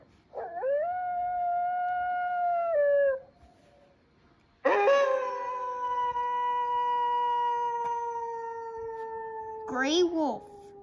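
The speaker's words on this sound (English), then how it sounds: "Coyote." Coyote howling in two long, wavering calls, the first short and the second drawn out and slowly sliding down, ending in a brief higher yipping flourish; close and clear, with no talk.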